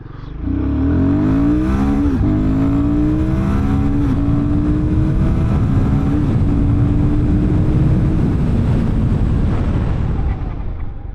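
A Royal Enfield Guerrilla 450 motorcycle engine revs up hard, its pitch climbing steadily through gear changes, loud and close for about ten seconds before easing off.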